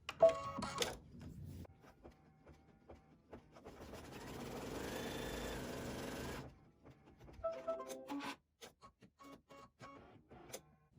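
An embroidery machine stitches a tack-down line around a fabric heart, with a steady mechanical whirring run in the middle and quieter clicking and ticking before and after it.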